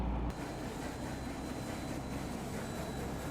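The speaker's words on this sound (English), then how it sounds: "You can hear the train pass in the background" Train passing in the background on a sunny daytime outdoor scene, a steady low rumble and hiss throughout, fairly faint and continuous.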